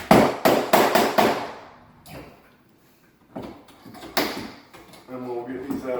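A hammer drives and straightens a misfired nail while a door is hung, giving four or five sharp, close knocks in quick succession, followed by scattered thuds and handling noises.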